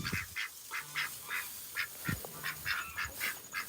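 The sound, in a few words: ducks chattering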